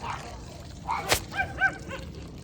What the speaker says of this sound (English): That's the dogs telling the neighbor's dogs off in the background.